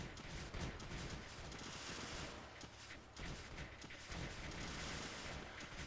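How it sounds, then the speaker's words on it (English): Small explosions in the video game Creeper World 2 crackle in dense, rapid bursts, a faint continuous popping barrage that swells and eases over a few seconds. "we get that lovely little explosion"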